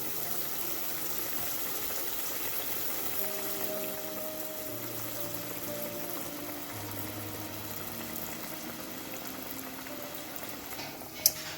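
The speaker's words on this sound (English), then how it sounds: "So my saltfish is finished boiling now." Steady low bubbling of a pot of water with saltfish on a rolling boil, continuous and fairly quiet, with a brief sharp knock near the end.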